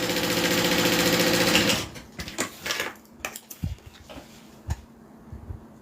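A sewing machine tacks fabric down in a loud, rapid continuous run for nearly two seconds, then stops, followed by scattered clicks and handling knocks of the fabric and machine.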